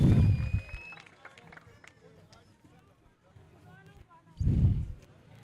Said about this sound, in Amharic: ለጌታ እልልታችሁን ጭብጨባችሁን አምጡለት።